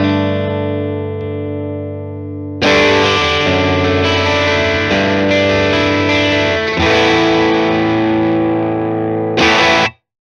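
Electric guitar with overdrive routed through a Morningstar ML10X loop switcher: a clean sustained chord fades, then a loud driven strummed passage rings out close for several seconds before cutting off abruptly.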